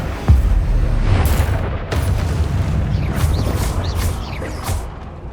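Incendio fire spell cast in Hogwarts Legacy, a loud whooshing burst of flame with deep booming rumble, followed by several sharp crackling impacts over about five seconds, no talking.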